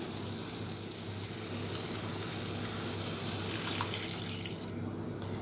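Water runs steadily in a continuous stream for several seconds into a pot of basmati rice, a close, even splashing pour with no voices.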